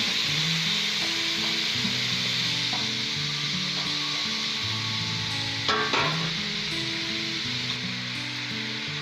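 Eggplant tipped into roasted masala in a pan for baingan bharta, giving a steady close sizzle with repeated stirring scrapes and a brief louder clatter midway, no talk.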